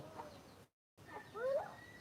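Turkeys and hens clucking and squawking close by on a farm as they are caught, a brief burst, a short gap of silence, then louder agitated clucks.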